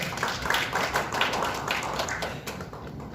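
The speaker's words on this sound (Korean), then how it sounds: "네, 박수 부탁드립니다." Applause from the audience at a policy seminar, a moderate spread of individual hand claps heard fairly close, patchy and uneven in rhythm, thinning out toward the end.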